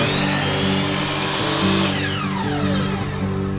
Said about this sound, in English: You operated a compound miter saw